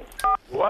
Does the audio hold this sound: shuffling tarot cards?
no